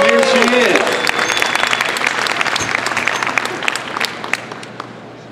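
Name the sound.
audience applause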